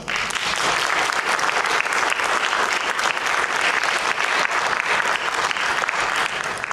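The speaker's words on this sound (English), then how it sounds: "I think they deserve a big round of applause" An audience at a religion and immigration Q&A event breaks into steady, loud applause that continues dense and unbroken throughout, with no voices standing out.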